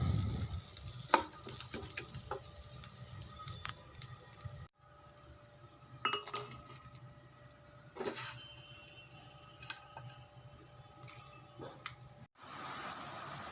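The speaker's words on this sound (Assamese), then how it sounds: "নাৰিকলবোৰ ভাজি ল'ম।" Grated coconut frying in a pan with turmeric and red chili powder for an Assamese coconut chutney. Soft, intermittent sizzling is broken by occasional stirring scrapes and clicks, with quiet gaps between bursts.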